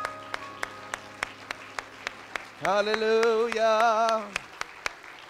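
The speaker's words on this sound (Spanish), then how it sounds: "Un aplauso fuerte, creed." Steady rhythmic clapping keeps a regular beat at a Spanish-language Christian church service, with a voice loudly calling out over it partway through before the claps continue alone.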